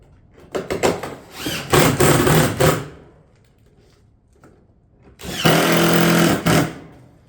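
A power tool drives fasteners through tile batten into M-seal on a barrel vault roof install, with two loud bursts of whirring separated by a quiet pause, close by.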